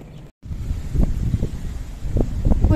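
Wind gusting outdoors on a sunny day, buffeting the microphone in rough, uneven rumbling bursts with a brief dropout near the start.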